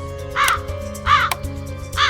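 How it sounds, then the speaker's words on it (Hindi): A crow caws three times at roughly even intervals, harsh and close, each call short and loud against a quiet background. "एक कौवा पीछे पड़ गया"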